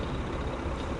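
A Kenworth truck engine in American Truck Simulator idles with a steady, loud, full-bodied rumble that fills the whole second without a break.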